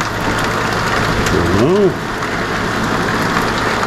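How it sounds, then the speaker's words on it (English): Rain falls outdoors as a steady, even hiss throughout, with a brief exclamation from a voice partway through. "Been raining about a half hour, man."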